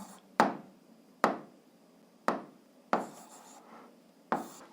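Pen or chalk writing out an algebra exercise on fractions, heard as five sharp taps spaced roughly a second apart, each trailing off into brief scratchy strokes, close and fairly quiet with no talking.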